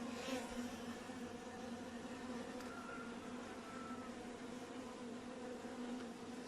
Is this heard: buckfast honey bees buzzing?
yes